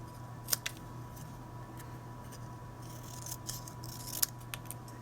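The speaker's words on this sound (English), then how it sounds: "and I can just go ahead and cut this out" Scissors snip out a piece of stamped paper card for a holiday gift card holder, giving a few sharp, close cuts at the start and end over a faint steady background hum.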